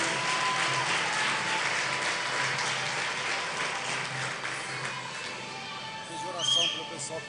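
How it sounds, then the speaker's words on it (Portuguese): A church congregation applauding during a service, a broad wash of clapping that gradually fades out, with faint voices and shouts toward the end. "Aplauda ao Senhor, glorifique o nome dEle."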